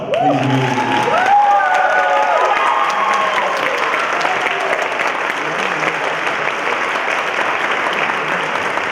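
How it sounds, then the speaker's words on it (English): A school concert audience at a high school concert band and wind ensemble performance applauds steadily for several seconds, a dense and loud wash of clapping with a few brief musical tones at the start. "One more round of applause."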